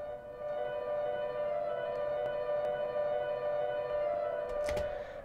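A synth in Cubase with harmonic tuning, run through vibrato, sustains a steady bright tone rich in stacked overtones. Faint clicks and a brief swell near the end break the otherwise even drone.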